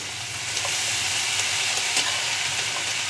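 Potato, beans, radish and cauliflower frying in a pan, giving a steady loud hiss and sizzle with faint crackles throughout and no voice.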